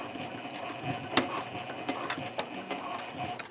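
Sewing machine stitching a sling bag seam from the gusset side at a 3.0 stitch length, a quiet steady mechanical chatter with occasional sharper ticks, close and alone.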